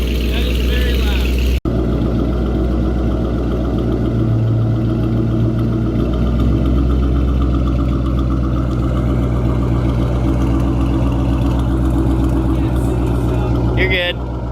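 A loud Ford Mustang GT engine runs steadily in a garage during a fog light install, a deep rumbling idle with a sharp click near the start and people talking over it.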